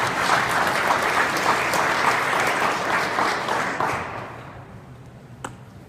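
Audience claps after a tech conference talk on Docker: a burst of dense applause for about four seconds, then tapering off to quiet with a lone tap near the end.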